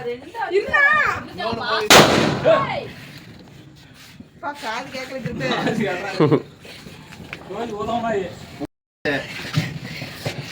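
Diwali firecrackers burst nearby, a sharp loud crack followed by crackling, with excited voices talking and laughing throughout.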